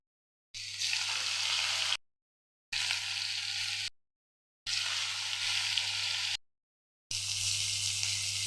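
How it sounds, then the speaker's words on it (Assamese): Pieces of fish frying in hot oil for an Assamese sour fish curry. The steady crackling sizzle comes in four separate stretches, with abrupt silent gaps between them. "এতিয়া মই তেল গৰম হওঁতে মাছ এটুকুৰাকৈ দিও দিছোঁ।"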